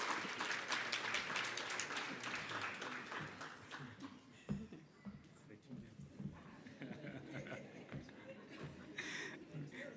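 Audience at an occupational health and safety conference applauding a speaker, a sustained patter of many hands that thins out midway, with voices and a few chuckles mixed in and a host speaking over it.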